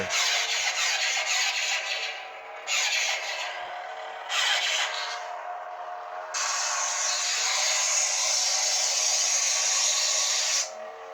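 A Crimson Dawn Banshee lightsaber plays through its small built-in speaker, giving a thin, hissy hum that swells in several louder surges like swings, then settles into a steady, bright drone.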